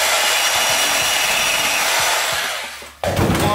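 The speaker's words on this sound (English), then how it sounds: "I'm just gonna cut the heads off these screws" A power cutting tool grinds through screw heads in a car garage, a loud sustained whine that fades, drops out briefly, then starts again with a harsher rush.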